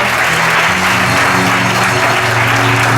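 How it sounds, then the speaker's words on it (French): A church congregation claps and cheers for the Lord at a sermon on 1st and 2nd Samuel, a dense, loud, continuous wash of applause. "let us put our hands together for the"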